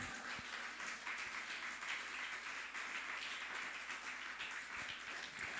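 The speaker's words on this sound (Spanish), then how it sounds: "¿Por qué no le da un aplauso al Señor en esta hora?" A church congregation claps through a steady, faint wash of applause that sounds some distance away, with no voices rising above it.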